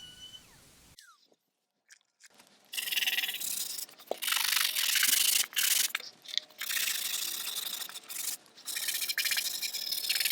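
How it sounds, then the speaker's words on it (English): Wood on an antique chest of drawers is hand-sanded with 150 grit paper, loud rough rasping strokes in bursts with short pauses, close up and without talk. "this is after I've sanded the first side to 150 grit"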